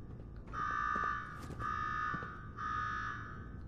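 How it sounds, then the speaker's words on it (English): An alarm blares in Fallout 4's Nuka World, a steady buzzing electronic tone sounding in three long bursts with brief gaps between them, loud and sustained. "Now go shut off that damn alarm."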